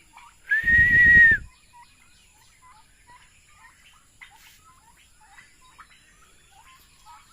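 A farm flock of around thirty turkeys kept on grass and raised for meat gives one loud, shrill call lasting about a second near the start, followed by faint, scattered chirping calls in the background.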